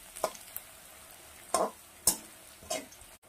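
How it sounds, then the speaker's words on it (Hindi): Cabbage, beans and other vegetables stir-fried in a pan for egg fried rice, with four distinct scraping stirs of a spatula over a soft, steady sizzle. "तो सारे सब्जियों को थोड़ा सा भून लेंगे।"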